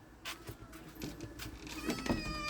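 A local cat meowing outdoors, several short faint meows in quick succession with light rustling and clinking nearby.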